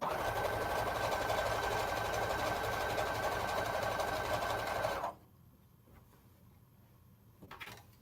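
A Brother sewing machine stitches steadily and loudly for about five seconds, a smooth continuous whir, then stops abruptly, leaving a quiet room with a faint brief rustle near the end.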